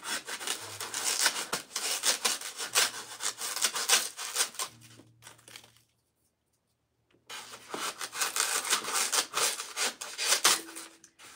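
Flower stems being trimmed for a spring centerpiece with hydrangeas and peonies, close, rough rasping cuts in two bursts separated by a short silence, with no talking.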